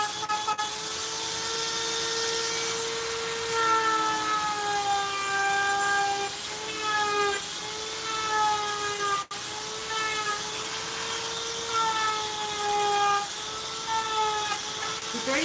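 A Dremel rotary tool whines steadily while working a piece in a shop, its high-pitched motor tone wavering as load changes, continuous and close with a short break near the middle.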